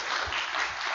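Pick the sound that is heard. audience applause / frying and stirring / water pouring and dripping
audience applause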